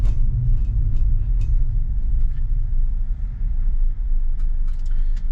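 Tesla car cruising at 50 mph on a road, a steady low rumble of tyres and wind inside the cabin that holds an even level throughout, with no voices.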